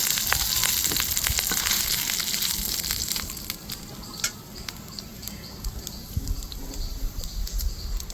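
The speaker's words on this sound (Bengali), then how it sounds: "খুব ভালো করে ভেজে নেব মাছটাকে" Fish frying in hot oil in a pan makes a continuous crackling sizzle with sharp pops and spits throughout, loud and close at first, then settling slightly while the sputtering carries on.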